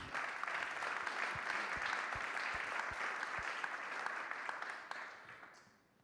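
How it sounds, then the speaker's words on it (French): An audience at a corporate partnership event bursts into sustained, dense applause, many hands clapping together at a steady level before fading out at the end. "Je pense qu'on peut applaudir Maxime aussi"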